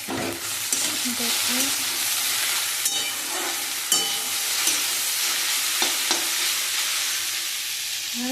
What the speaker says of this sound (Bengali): ঢ্যাঁড়সটা ভাজা ভাজা হয়ে গেছে